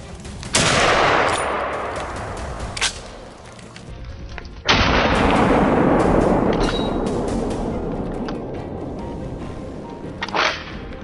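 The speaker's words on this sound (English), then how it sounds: "A swift, cold-blooded opening shot kicks off today's challenging hunt." Sharp rifle shots crack through a snowy forest at the start of a wild boar hunt, with a couple of loud reports echoing and decaying among the trees, followed by quieter scattered cracks.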